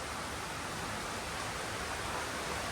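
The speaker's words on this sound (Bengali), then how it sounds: "দেখেন নীরবে নিস্তব্ধে বৃষ্টি আস্তে আস্তে বেড়ে যাচ্ছে" Quiet, steady rain falls as an even, unbroken hiss with no voices or other sounds.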